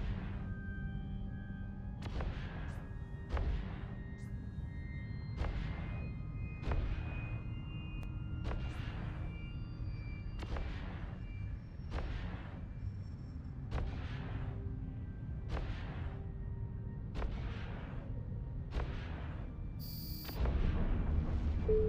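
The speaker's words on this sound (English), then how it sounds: "Activate your primary weapon to destroy the generator." Primary weapons firing at a generator in the space game EVE Online, a steady cadence of booming, cannon-like shots roughly every second over a constant deep ship hum, loud and continuous.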